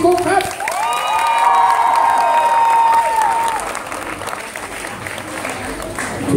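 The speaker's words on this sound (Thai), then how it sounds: "ขอเสียงปรบมือด้วยผมนะครับมือคีย์บอร์ดพี่กุ๊กครับ" A concert crowd at a fan club party applauds the keyboard player, clapping and cheering with scattered whoops. Sustained musical tones ring over the noise for the first few seconds, then the clapping carries on alone.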